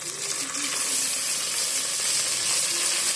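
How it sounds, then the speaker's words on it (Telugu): Washed mutton pieces sizzle steadily in a hot pan, a dense continuous frying hiss with faint crackles throughout and no voices. "కడిగి పెట్టుకున్న మటన్ వేసుకోవాలి."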